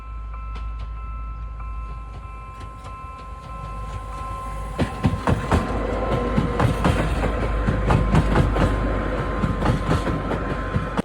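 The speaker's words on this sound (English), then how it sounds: "got stopped at a railway crossing for a very slow and very short passenger" A very slow, short passenger train rolling past a railway crossing, with a low engine rumble, rhythmic clacking of wheels over rail joints and a steady crossing-bell tone, growing louder midway as the cars pass close by.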